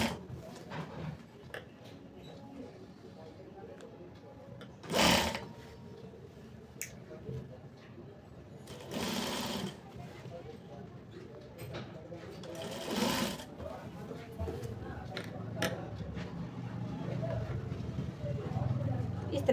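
A sewing machine stitches the collar onto a kurti coat in short, rapid bursts of whirring, clattering needle action separated by pauses, up close, while someone speaks throughout.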